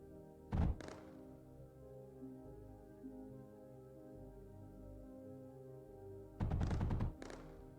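Turret fire from a duo turret in the video game Mindustry: two loud bursts of rapid thudding shots, one near the start and one near the end, over a steady low game hum.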